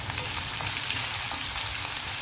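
Cumin, mustard seeds and dried chillies frying in hot oil, a loud, close, unbroken crackling sizzle with fine spitting pops throughout.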